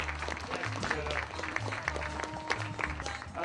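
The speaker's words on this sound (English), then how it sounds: "How about a well-deserved round of applause for this young man?" Applause from an audience, steady and fairly loud throughout, with music playing underneath.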